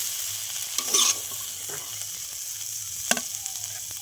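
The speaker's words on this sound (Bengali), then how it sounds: "এই যে গোলমরিচের গুঁড়ো আর ধনিয়ার গুঁড়ো দিয়ে নাড়াই ছাড়াই দিয়ে এই তো শুকনো হয়ে গেছে" Vegetables fry dry in a karahi with ground black pepper and coriander powder. A constant close sizzle runs throughout, broken by a couple of sharp stirring scrapes against the pan.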